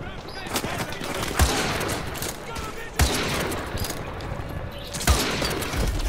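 The player's gun fires in the Call of Duty MW2 remastered campaign, three loud sharp shots spaced a couple of seconds apart over a constant rumble of battle ambience, with talk in the background.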